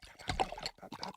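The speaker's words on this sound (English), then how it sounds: "It was a perfect pour." Liquid pours in one intense continuous rush with splashy, bubbling texture, loud and close, ending in a short pause before a few more splashes.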